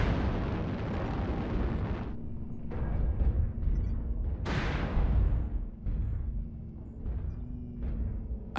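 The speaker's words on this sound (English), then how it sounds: "Artillery strike." Artillery strike explosions in MechWarrior Online land as several heavy, rumbling booms in succession, loud and close, with sharp bursts at intervals and no talk.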